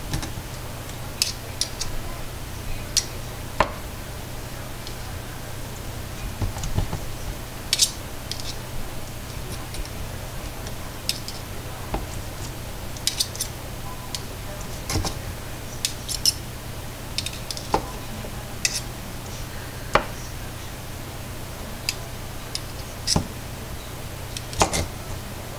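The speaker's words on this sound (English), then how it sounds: "And we're going to cut the sausage in small pieces." A knife cuts microwaved sausage into small pieces on a board, giving a run of faint, quick clicks and taps over a steady low hum. No one speaks.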